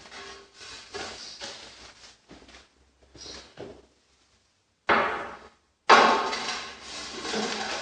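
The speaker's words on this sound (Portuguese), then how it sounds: "Muitos assentadores de piso usam a marreta de borracha para bater na peça, para que ela venha a baixar." Rubber mallet tapping porcelain floor tile into fresh mortar, a series of dull, irregular knocks close by with short silent gaps between them and a few louder blows toward the end.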